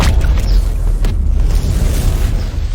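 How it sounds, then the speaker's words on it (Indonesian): A dramatic film-scene explosion booms loud and sustained, a deep rumbling blast that fills the whole stretch with no talking over it. "inspektur berusaha meledakkan dirinya bersama Gopal"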